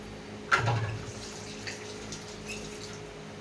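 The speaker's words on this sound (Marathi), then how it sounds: "ह्यामध्ये आपल्याला पाणी अजून ॲड करायचं आहे" Water poured into a pot of potatoes, a short splash followed by a faint steady trickle and a low hum, close by and without talk.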